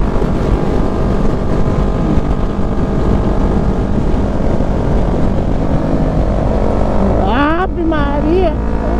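A Yamaha MT-03 motorcycle engine drones loud and steady on a cold road in traffic near roadworks, with a voice breaking in over the engine near the end.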